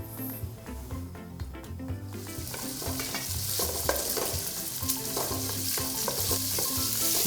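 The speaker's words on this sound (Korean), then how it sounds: "돼지고기를 먼저 넣어서 볶아 주실 거예요." Pork stir-frying in cooking oil in a pot, a steady crackling sizzle that swells and thickens after a couple of seconds, with stirring scrapes and clatter close by and no talking.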